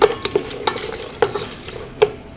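Cashews being stirred and fried in a pan for khichdi, with a steady sizzle and sharp, distinct scrapes of the spoon repeating every half second or so, close and fairly loud, no voices.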